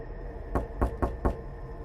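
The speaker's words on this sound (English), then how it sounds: "Someone was knocking on our front door. Not a normal knock. It was slow and rhythmic, like they were in no hurry at all." Four slow, evenly spaced knocks land on a front door, close and solid, with a quiet room tone between the heavy, unhurried raps.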